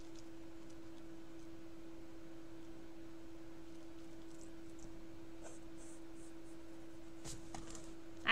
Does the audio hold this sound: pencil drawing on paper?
yes